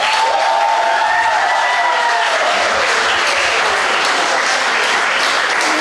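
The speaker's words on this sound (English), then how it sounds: "And at last, clap for your country." A large student audience at a startup event gives loud, continuous applause, with faint whistles and cheers riding over the clapping throughout.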